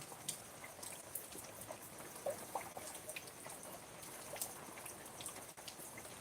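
Steady rain falling outdoors, a faint, even hiss with scattered small drop ticks, continuous and without speech.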